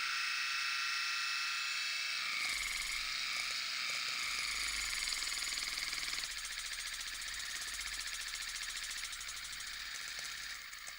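Water flosser toothbrush powering on and running, a steady close buzzing hum that starts abruptly and continues loud and unbroken, alone with no talk.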